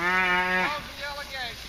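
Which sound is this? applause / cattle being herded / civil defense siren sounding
cattle being herded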